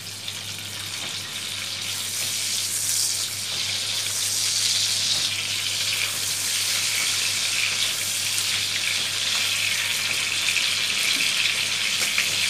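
Bata fish sizzles steadily in hot oil in a pan after being flipped, a dense, even crackling hiss that stays loud and close throughout with no voices.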